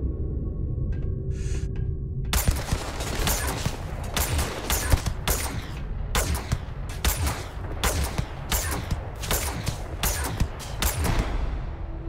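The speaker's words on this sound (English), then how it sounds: "that's my semi-automatic laser sniper rifle." A modded semi-automatic laser sniper rifle in the video game Starfield fires in a steady series of sharp, loud shots, roughly one per second, after a quieter opening. No one speaks.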